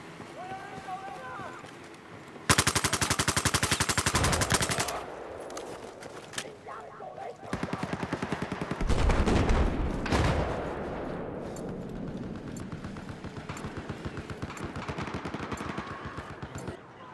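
Battlefield 4 firefight on Xbox One, with long bursts of loud automatic gunfire broken by short pauses and scattered single shots, heavy and close, set against steady in-game background noise.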